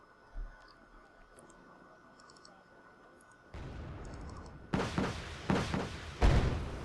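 Rocket artillery in the strategy game Wargame Red Dragon launches in a series of sharp, loud whooshing blasts in the second half, following a quieter stretch of faint clicks and ambient game noise.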